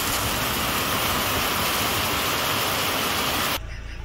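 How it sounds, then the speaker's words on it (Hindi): Heavy rain pours down outdoors near a tent campsite, a loud, dense, unbroken roar of falling water that cuts off abruptly near the end to a quieter background hiss, with no talk. "बहुत तेज़ ज़बरदस्त बारिश।"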